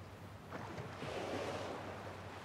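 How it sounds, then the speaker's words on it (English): Rushing waterfall in the video game Tell Me Why, a soft, steady broadband wash of falling water heard at a distance, faint and continuous with no voices. "Oh, look at that waterfall."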